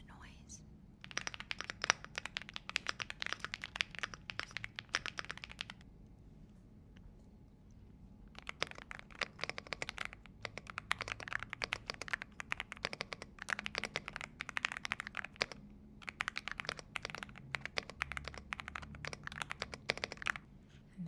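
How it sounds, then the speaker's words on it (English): Rapid clicking of mechanical keyboard keys in bursts of typing, close and crisp, with a pause midway and a soft voice murmuring faintly underneath. "this one seems like it has a lower octave compared to this wobkey mechanical keyboard"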